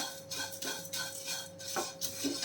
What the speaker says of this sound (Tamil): இந்த அவலை வந்து கொஞ்சம் ட்ரை ரோஸ்ட் பண்ணி எடுத்துக்கலாம்